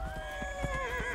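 A horse whinnies in Dragon Age: Inquisition, a long wavering neigh that rises and falls over soft hoof clip-clops and a low game background, fairly close and clear with no talking.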